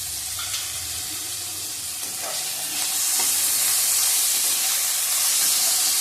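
Onions and green chillies sizzle and hiss in a hot pan, the frying growing louder and brighter partway through, with faint stirring clicks.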